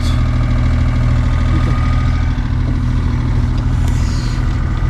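A sailboat's motor runs steadily while the boat makes about five knots under power with a small sail up. The engine gives a constant, close, droning idle-like hum with no speech over it.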